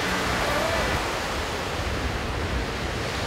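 Ocean surf washes steadily onto a beach, a continuous broadband rush of breaking waves with faint wind, loud and close with no voices.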